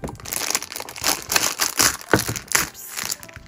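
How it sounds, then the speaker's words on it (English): Plastic blind box packaging crinkles and crackles as it is handled and cut open with scissors, close and steady rustling with no talking. "Let's grab some scissors and open this one up."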